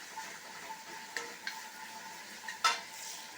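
Ginger garlic paste sautés quietly in a pan for a duck curry, giving a low, steady sizzle broken by a few soft stirring scrapes and one sharper clink.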